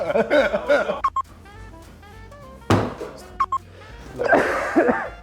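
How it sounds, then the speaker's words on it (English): A sudden sneeze and a cough burst out at close range between stretches of background music, with a sharp thump in the middle. "sneeze and cough"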